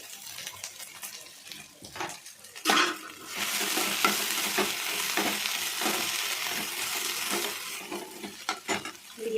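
About a quarter kilo of cut okra fries in hot oil in a village-style kitchen, with a constant crackling sizzle broken by repeated scraping stirs of a spoon against the pan.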